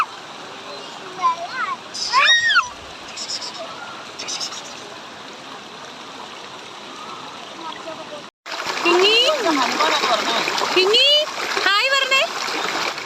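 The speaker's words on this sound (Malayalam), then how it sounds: "അപ്പം വെള്ളച്ചാട്ടത്തിൻ്റെ കാഴ്ചകളൊക്കെ കാണാനെത്തി." Water rushes at Lakkam waterfalls in Munnar as a steady, noisy background splash, mostly under people talking nearby, including children's voices.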